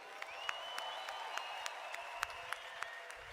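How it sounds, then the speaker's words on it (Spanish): Scattered hand claps come from an audience at an Eric Worre seminar in Dubai, sparse and fairly faint, each clap standing apart against a quiet room. "Give them all a big round of applause."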